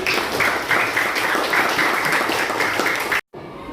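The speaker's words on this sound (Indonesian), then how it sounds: "Tepuk tangan untuk kita semuanya." Steady applause from a classroom of students during an Indonesian lesson, dense and fairly close, running for about three seconds before a brief dropout and a quieter tail.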